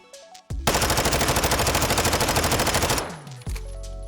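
Automatic gunfire in Modern Warfare 2: a loud, close sustained burst of rapid, evenly spaced shots lasting about two and a half seconds, followed by a short mechanical clack and a lone thump.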